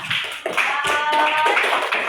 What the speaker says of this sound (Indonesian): Ya, tepuk tangan buat kita.